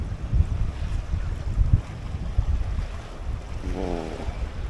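Strong wind buffeting the microphone at a seaside fishing harbor on an open coast, with low rumbling gusts and surf-like noise throughout, close and loud with no talking.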